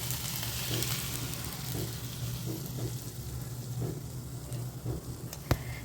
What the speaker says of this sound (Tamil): இது மேலே அப்படியே முட்டை ஊற்றலாம்